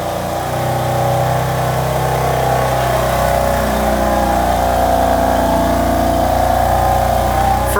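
A BMW M4 in sport mode with its exhaust valves open runs in a steady, loud drone, close by and continuous, with no clear revving peaks or talk.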